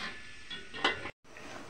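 A lid settles onto a pot of water and pork for sinigang on the stove, a single faint metallic clink in a quiet kitchen.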